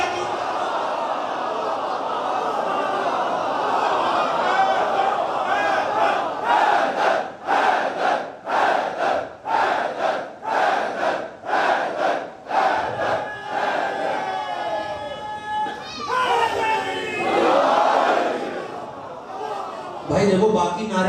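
A majlis congregation at an imambargah in Sahiwal, gathered for the first of Muharram, chants a religious slogan in unison. It comes as repeated loud rhythmic crowd bursts with pauses between them, followed by overlapping voices.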